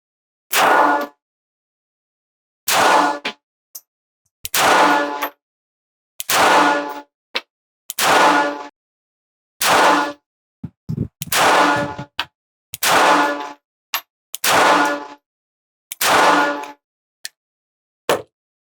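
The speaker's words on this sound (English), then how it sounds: "I'll do 10 from our Bodyguard 2 carry comp at our top left-hand target." A Smith & Wesson Bodyguard 2.0 Carry Comp .380 ACP pistol fires ten sharp, loud shots at a target, evenly spaced about a second and a half apart with small metallic clinks between, and no talking.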